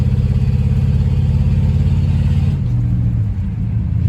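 A 1972 Ford F-100 pickup truck drives along with its engine rumbling loud and close, the pitch steady and then dropping as it shifts gears near the end.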